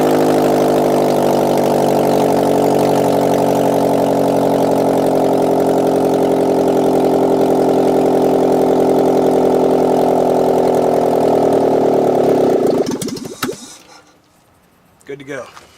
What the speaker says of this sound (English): This car is running without a header.